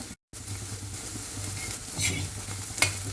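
Raw banana peel roasting in a pan for a peel powder, with a steady close sizzle and repeated scraping stirs, heard alone.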